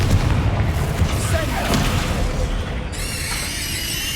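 A Confringo fire-blast spell booms in the Hogwarts Legacy game, a heavy low rumble with a few sharp impacts, loud and near, followed by a shimmering magical tone in the last second.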